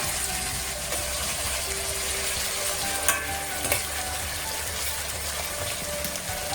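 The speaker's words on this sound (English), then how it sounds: "So just allow the onions to brown lightly." Onions frying and browning lightly in a pan, an even, close sizzle with a couple of brief stirring clinks partway through.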